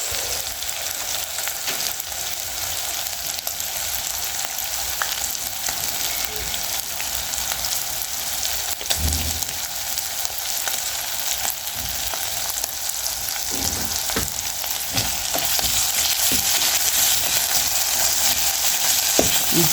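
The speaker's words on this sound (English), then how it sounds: "And now, guys, we go in with the tomato paste." Tomato paste frying in a pot of Kenyan pilau, a steady close sizzle and crackle throughout with occasional stirring knocks, growing slightly louder near the end.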